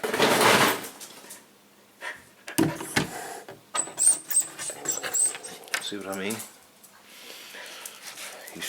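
Dogs pant and snuffle around a cat indoors in an apartment, with short bursts of breathing and shuffling, close by, broken up by a person's speech.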